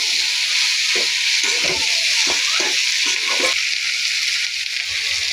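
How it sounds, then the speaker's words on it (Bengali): Fig and prawn curry with ground spices sautéing in a pan, a constant loud sizzle broken by several spatula scrapes and stirs against the pan, no talk. "নিয়ে সুন্দর করে এটা কষিয়ে নেব ভালো করে"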